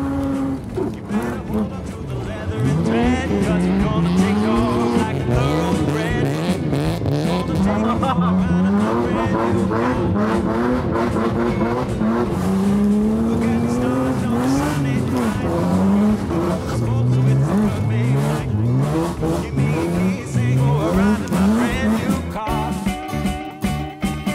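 BMW M3 E36 with its 3-litre engine drifting across open fields, a loud continuous engine roar with rising and falling revs throughout, tire scrabble mixed in, and voices heard over it.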